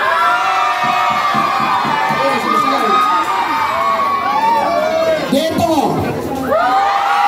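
A large outdoor crowd in Quezon City shouts and cheers to win a cash and rice giveaway, a loud continuous roar of voices with high whoops and children's shouts, and someone speaking briefly.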